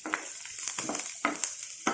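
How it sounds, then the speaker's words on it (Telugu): Green chillies fry in a pan for a mango and lentil stew, giving a soft, steady sizzle with a few brief scraping stirs. No one speaks. "ఇప్పుడు ఈ పచ్చిమిరకాయలు వేసేసేయాలండి. ఇవి కూడా వేగనీయాలి."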